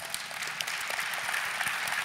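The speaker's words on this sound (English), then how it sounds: "Give Ken a round of applause." Audience applause for Ken at a White House Initiative on Educational Excellence event: a steady patter of clapping from a seated crowd, moderately faint and even, with no voices on top.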